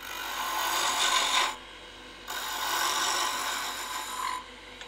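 A skew chisel cuts wood on a turning lathe, taking stock down quickly. Two loud, sustained raspy scraping passes are separated by a short quieter gap, and a third cut begins at the end.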